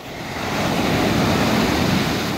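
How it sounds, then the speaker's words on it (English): Massive ocean waves break and surge on a beach, a loud, continuous broadband roar of surf with wind buffeting the microphone throughout, no voices. "The waves are massive."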